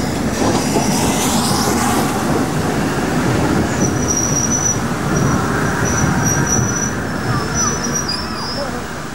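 A preserved LNER steam locomotive, the Flying Scotsman, running on a special excursion, a loud steady rolling rumble with wheel clatter and thin high squeals throughout, close by.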